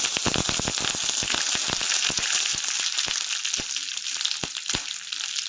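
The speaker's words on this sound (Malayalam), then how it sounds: "കടുക് പൊട്ടുമ്പോഴേക്കും കുറച്ച് വറ്റൽമുളകും കറിവേപ്പിലയും കൂടി ചേർത്ത് കൊടുക്കാം" Mustard seeds, dried red chillies and curry leaves sizzling in hot oil for a Kerala bitter gourd kichadi tempering, with a steady frying hiss dotted by sharp popping crackles that thin out toward the end.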